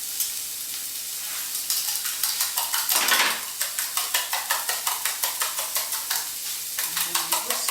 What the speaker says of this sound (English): And then you whisk it like that.